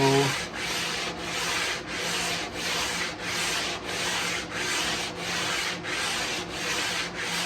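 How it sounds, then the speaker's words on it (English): A guitar fretboard is sanded to a radius with steady back-and-forth strokes, about eleven even, close, loud rasping passes in a continuous rhythm, with no talking. "It's very easy to over sand it, make it too thin"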